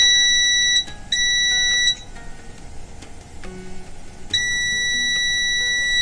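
A multimeter gives a high continuity tone while connections in a repaired electronic device are checked, sounding as steady electronic beeps that cut in and out with gaps, close and clear, with no talk.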